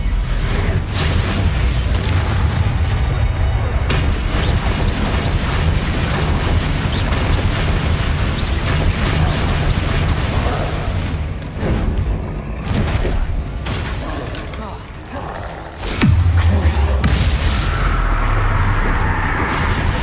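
Loud, continuous booming blasts of the Bombarda explosion spell in Hogwarts Legacy, with dense rumbling impacts and bursts filling the whole stretch and a sharp, heavy blast near the end.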